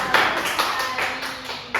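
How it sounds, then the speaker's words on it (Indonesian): A classroom of students claps briefly for group one, with a few uneven bursts of hand claps over about two seconds, moderately loud and close. "Berikan tepuk tangan nih untuk kelompok satu"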